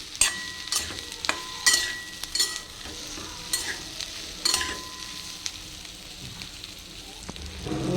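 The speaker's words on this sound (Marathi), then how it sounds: "आता यात मी भेंडी चिरून घेतली आहे ती घालणार आहे आणि हा मसाला एकदा व्यवस्थित हलवून घेणार आहे" Chopped okra is stirred through masala in a pan, bringing a sizzling bed under repeated spoon scrapes and sharp metallic clinks against the pan, irregular and close.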